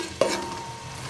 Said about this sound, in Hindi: एक कप ऑयल में 2 मीडियम साइज के प्याज ले लिए हैं। और इन्हें लाइट ब्राउन कर लेना है।